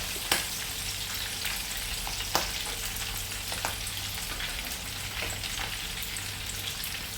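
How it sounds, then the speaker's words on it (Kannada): Pieces of squid deep-fry in hot oil with a steady, dense sizzle and crackle throughout, broken by a few sharper pops and spits. "ನೋಡಿ ಇಲ್ಲಿ ನಾನು ಡೀಪ್ ಆಯಿಲಲ್ಲಿ ಫ್ರೈ ಮಾಡ್ತಾ ಇದ್ದೇನೆ."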